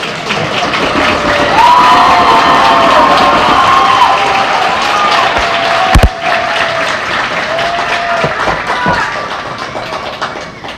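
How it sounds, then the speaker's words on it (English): A graduation ceremony crowd for the Class of 2022 applauds and cheers loudly, sustained clapping with whoops and shouts, one sharp thump partway, then tapering slightly toward the end. "Can we have one more round of applause for our South"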